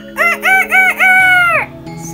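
A rooster crowing in the morning, loud and close: a few quick rising calls lead into one long drawn-out crow that trails off.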